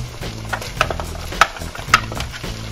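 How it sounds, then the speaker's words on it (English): Carrots stir-fried in a pan for chopsuey, with a soft steady sizzle under repeated scraping stirs and a few sharper utensil clacks against the pan. "Then stir fry for 3 to 4 minutes."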